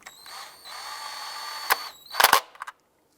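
A whirring power tool snugs down an ignition coil stud on a 2001-2007 Ford Escape, running steadily close by, then a few sharp clicks and a rattling burst before it stops.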